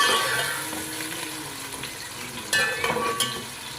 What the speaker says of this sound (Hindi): प्याज को जो है वो हम लाइट ब्राउन करेंगे